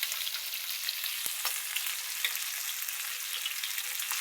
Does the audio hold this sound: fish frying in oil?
yes